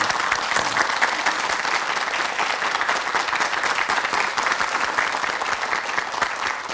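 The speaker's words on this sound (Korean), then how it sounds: "박수로 강의 청해 주시기 바랍니다." A studio audience applauds warmly at a morning talk show lecture, with dense, sustained clapping that holds at an even level for the full stretch, alone and without voices.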